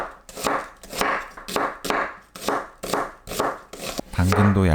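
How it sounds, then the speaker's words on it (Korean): A knife thinly slicing onion on a cutting board for an enoki mushroom rice bowl, with eight or nine steady rhythmic chops, close and crisp, followed by a short burst of voice at the end. "양파를 얇게 채 썰어 주세요."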